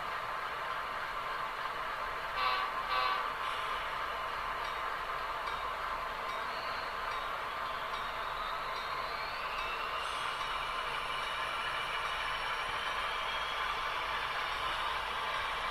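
Athearn SD70M HO model diesel locomotives hum steadily with a hissing, whirring motor drone, and a faint rising whine appears partway through.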